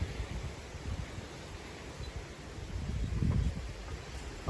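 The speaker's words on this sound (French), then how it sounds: "le choc thermique va provoquer de fortes rafales de vent" Strong wind gusts ahead of summer thunderstorms after a hot day roar as a steady low rumble outdoors, swelling into a stronger gust near the end, with no voices.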